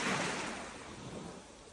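Evening sea surf washes onto the shore in one broad continuous hiss that slowly fades, close and steady with no voices.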